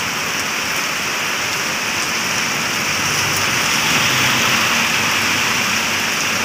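Heavy rain pours at the Rangsit floodgate on the Prayoonsak canal, a loud, steady, dense hiss of drops hitting surfaces throughout, with no voices.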